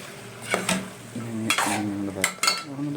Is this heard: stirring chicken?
yes